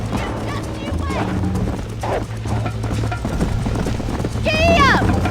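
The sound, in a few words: horse galloping in Red Dead Redemption video game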